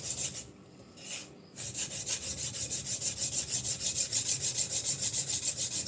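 A Yanagiba knife is sharpened on a coarse diamond plate. After a short pause, a steady, rhythmic back-and-forth rasp of close, even strokes continues to the end, with no talking.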